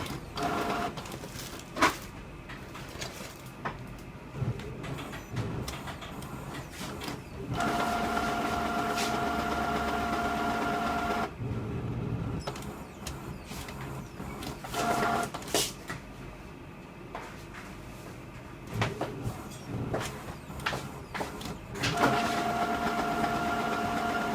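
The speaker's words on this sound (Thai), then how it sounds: "ถ้ามีเสียงแบบนี้นะครับ คือประมาณว่า ตัวหัวพิมพ์กํกำลังดูดหมึกเข้าไป" A Brother T300 inkjet printer whirs and hums mechanically in long stretches as its print head draws in ink, with clicks and brief pauses between motor runs, close by and fairly quiet.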